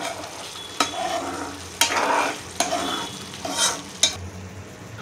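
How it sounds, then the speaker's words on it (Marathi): Spinach paneer with coriander-cumin powder and garam masala being stirred in a pan, four sharp spoon knocks against the pan spaced a second or so apart over a soft, steady frying sizzle. "आणि ढवळून घेऊया।"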